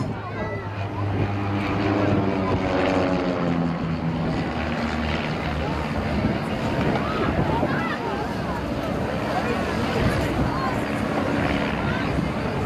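Propeller aerobatic planes flying in formation at the Blackpool seaside airshow give a steady, fairly faint drone, buffeted by wind noise, while a commentator talks over it.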